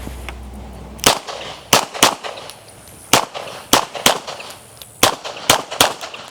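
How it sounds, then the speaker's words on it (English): Pistol shots ring out at a USPSA-style transition shooting drill, with about a dozen sharp, loud cracks in quick pairs and clusters separated by short pauses over quiet outdoor background. "You shoot one, another one, and then you transition on it to the next one and you shoot."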